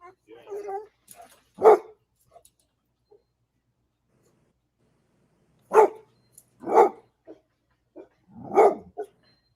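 A dog barks once, then after a quiet pause lets out three more sharp, loud barks, close by, with faint soft sounds between.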